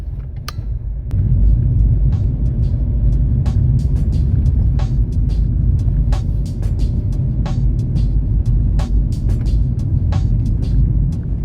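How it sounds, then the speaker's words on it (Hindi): A car crawls in first and second gear over a potholed road returning from Bhimashankar. A steady, loud engine and road rumble is punctuated by regular knocks and clunks as the wheels hit the holes. "तो यहाँ पे भी आपको गड्ढे वाले रास्ते और फर्स्ट सेकंड गियर में ही चलना पड़ेगा।"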